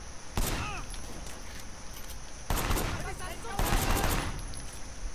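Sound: gunfire from blind fire in the Sleeping Dogs video game

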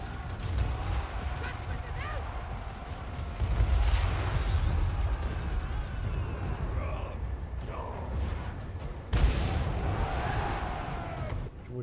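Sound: artillery shot in Total War Warhammer 3 video game

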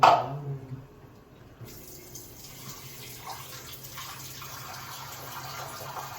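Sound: water being poured into a pot

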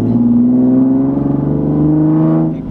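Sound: Nissan 370z NISMO stock exhaust revving

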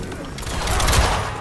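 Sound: gunshot hitting player in video game Mortal Kombat

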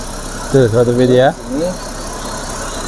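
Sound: car engine running

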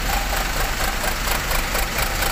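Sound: bus exhaust at idle, Sumber Alam bus

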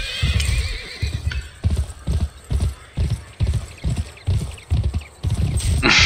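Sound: horse hooves and neigh in video game GUN

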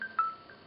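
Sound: Windows Phone text message notification sound

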